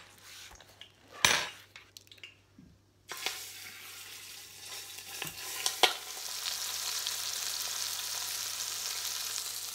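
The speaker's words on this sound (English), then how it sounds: "Do you hear that sizzling?" Beef sears in canola oil in a quick cooker, a steady hissing sizzle that builds and settles into a constant fry, with a few sharp utensil clanks and stirring scrapes early on.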